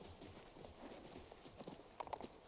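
Horse hooves clip-clopping in the video game King's Bounty 2, a soft, fairly quiet patter of steps with a couple of sharper hoof strikes near the end, no talking.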